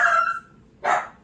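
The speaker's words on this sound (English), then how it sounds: "See, the dog is going crazy right now" A dog barks loudly twice, close by, with a short pause between the two barks and no talking.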